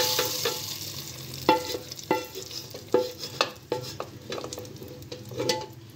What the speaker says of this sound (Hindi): अब हम तड़के को चने की दाल में ऐड कर लेंगे